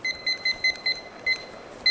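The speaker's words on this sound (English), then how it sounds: "So we're gonna set a timer for" A kitchen timer being set for boiling packet pasta gives a series of short, thin electronic beeps in an uneven rhythm, close and fairly quiet, with no voices.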